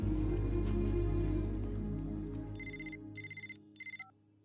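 A phone ringtone in a scene from the Telugu film Love Story: three short bursts of bright electronic ringing near the end, after a fading loud music bed.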